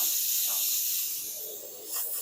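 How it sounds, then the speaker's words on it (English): Spray paint can hissing black paint onto an RC car body, a steady close-up hiss in a couple of short bursts with a brief dip between them. "So let's spray the black and call this baby done."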